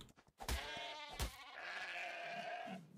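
A sheep in the ARK Genesis video game bleats twice, a close, clear wavering cry that trails on for a couple of seconds.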